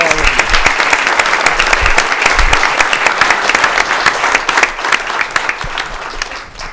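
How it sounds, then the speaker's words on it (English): A crowd at a board meeting claps loudly and steadily. The applause thins out slightly toward the end. "round of applause to all of you"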